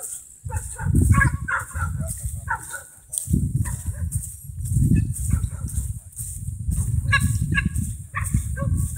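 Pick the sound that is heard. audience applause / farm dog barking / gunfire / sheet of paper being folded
farm dog barking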